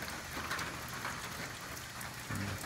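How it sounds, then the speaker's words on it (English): Steady rain falls outdoors, heard from beneath an awning as a soft, even hiss of drops pattering on surfaces, continuous and fairly faint with no voices. "I'm standing here under the awning listening to it rain"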